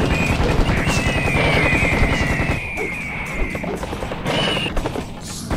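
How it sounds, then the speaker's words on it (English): Minigun fire in Serious Sam HD, a dense continuous mechanical roar with a whining spin tone, loud and up close, mixed with other game chaos and tapering slightly toward the end. "If you pick up the mini gun"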